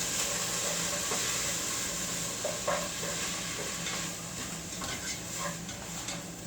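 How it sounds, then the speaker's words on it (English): Garlic, onions and vegetables sauté in a pan for a lasagna, giving a steady, soft sizzle and hiss with occasional faint clicks and stirring scrapes. "you want to saute these veggies until the onions become translucent"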